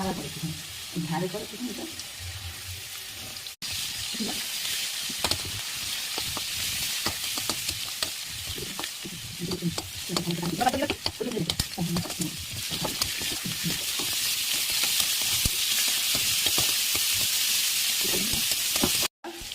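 Carrots and onions fry in rice bran oil with a steady, bright sizzle, punctuated by scraping stirs and a few faint voices underneath.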